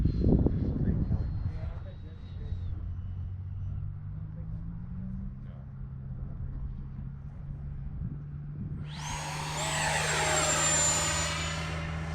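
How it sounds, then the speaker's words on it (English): An FMS Integral 80mm electric ducted-fan RC jet flies on approach with gear down and landing flaps set, giving a steady whooshing fan drone throughout and a rising high-pitched whine toward the end. Someone talks over it. "that's a good flying jet right here"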